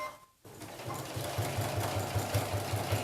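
A sewing machine stitches a fabric necessaire, whirring in a fast, even mechanical rhythm after a brief pause at the start. It is heard close and steady, with no talking over it.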